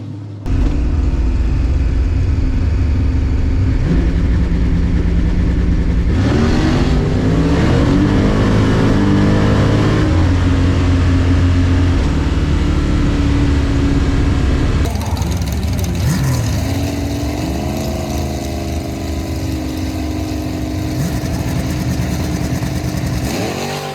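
A 1969 ZL1 Camaro race car engine, with adjusted timing and carburetor secondaries, roars loud and close, revving up and down in repeated surges before climbing steadily through a sustained run.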